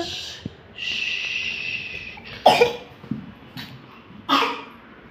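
Several sharp, separate coughs sound close by in a home, with a rough hiss of breath between bursts and low background noise.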